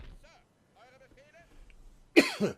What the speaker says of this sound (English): And coughing.